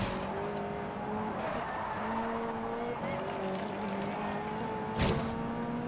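Cars in Forza Horizon 2 skidding through a curve, tires squealing in long wavering tones over a steady engine drone, with a sharp burst near the end.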